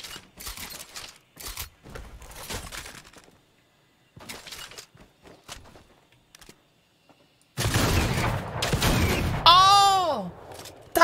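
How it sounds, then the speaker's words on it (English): A primal auto shotgun in Fortnite fires in scattered bursts of sharp, loud blasts separated by quiet gaps, ending in a dense run of shots layered with other game sounds. "It's an auto shotgun!"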